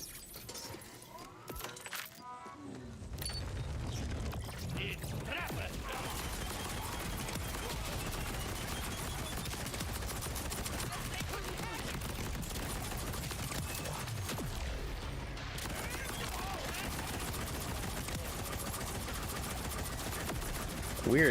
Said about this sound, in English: Weird, it's a beam gun, okay.